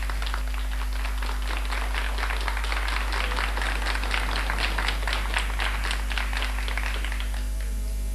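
A small audience claps steadily for several seconds, a dense patter of hand claps that fades toward the end, over a constant low electrical hum.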